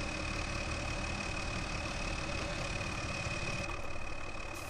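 A tractor engine in the video game Farming Simulator 2013, heard from outside the vehicle, drones at a steady idle, with a constant low rumble and a faint whine, no voices.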